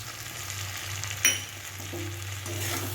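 Okra frying and being stirred with spice paste in a pan over medium-low gas flame, a steady close sizzle with a brief scraping clatter of the spatula partway through.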